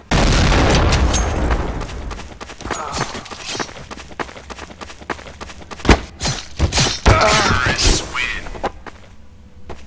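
A grenade explodes in Counter-Strike: Source with a loud, booming blast at the start, followed by scattered thuds, footsteps and gunfire-like impacts while players talk over the game.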